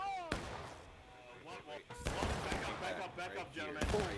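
Booming Civil War cannon shots ring out in a large multiplayer battle game, three sharp heavy blasts spaced a couple of seconds apart, with voices talking between and over them.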